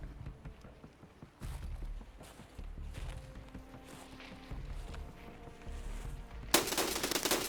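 Gunfire in Escape from Tarkov, a quiet distant exchange of shots and clatter, then an abrupt loud close burst of automatic fire near the end.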